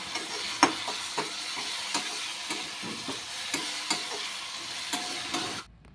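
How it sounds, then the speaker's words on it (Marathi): Garlic and green chillies sauté in a pan with a continuous loud sizzle and repeated scraping strokes of a spatula stirring at a steady rhythm, close and unvoiced, ending abruptly. "दोन मिनटं छानपैकी परतून घ्यायचं आहे आणि मस्तपैकी लसणाचा आणि मिरचीचा खमंग वास सुटलेला आहे"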